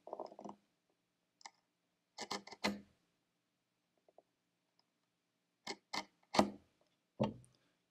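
A knife scores hinge lines into a wooden box, heard as short bursts of dry scraping strokes in separated clusters, close and distinct over near silence.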